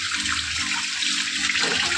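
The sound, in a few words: washing hands under running tap water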